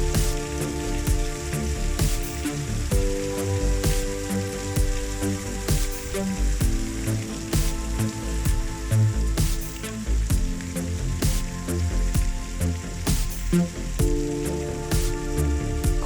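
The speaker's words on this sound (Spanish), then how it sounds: "la lluvia golpea el techo y gorgotea por todas partes" Heavy rain pounds the roof of a small riverside hostel on the Cañoles river in Spain, a dense, steady hiss and patter with gurgling water, continuous and loud with no voices.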